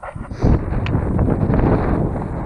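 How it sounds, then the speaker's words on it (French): Steady wind buffeting a microphone on the seashore, a continuous low rumbling roar with gusty fluctuations throughout, loud and close, with no talking. "il y a un peu de vent, j'espère que ça va pas trop s'entendre"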